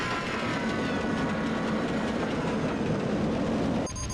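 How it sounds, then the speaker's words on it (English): Roller coaster train in RollerCoaster Tycoon 3 hauled up a lift hill, a steady loud rumbling clatter of rail cars running throughout, with a faint hiss and change near the very end. "As their train was towed backwards up the lift hill, they feared what was next."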